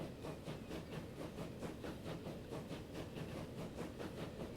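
Class 142 train running on the Transpennine line in a transport simulation game, a faint steady rumble with rhythmic clickety-clack beats repeating about every quarter second.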